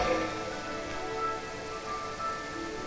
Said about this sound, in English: it's raining like cats and dogs out here and looks really foreboding